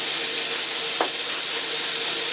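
Bacon sizzles steadily in a cast iron pan, a loud, even, hissing fry with a brief spatter crackle midway and no talk.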